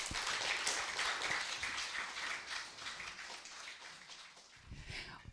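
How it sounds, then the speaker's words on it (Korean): An audience at a humanities lecture forum gives welcoming applause for a professor, a fairly quiet and dense patter of many hands that dips and then picks up again briefly at the close. "큰 환영의 박수 부탁드립니다"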